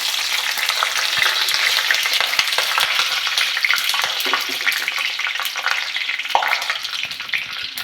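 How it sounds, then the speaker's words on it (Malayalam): Mustard seeds and dried chillies fry in hot oil for a Kerala sardine thoran, a close, dense crackling sizzle with frequent sharp pops and spatters running continuously, loud and with no voices. "കടുക് ഇട്ട് കൊടുക്കാം."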